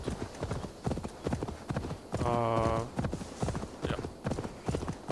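Rapid galloping hoofbeats of a ridden horse in Assassin's Creed Valhalla, a fast steady clip-clop throughout with a short whinny partway through, close and clear.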